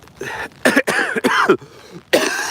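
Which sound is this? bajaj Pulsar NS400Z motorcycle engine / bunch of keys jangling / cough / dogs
cough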